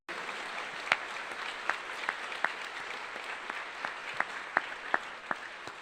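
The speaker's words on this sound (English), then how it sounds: "If we could give a round of applause to all of those folks" An audience at an academic awards ceremony claps in a sustained, dense round of applause, with a few louder individual claps standing out near the front.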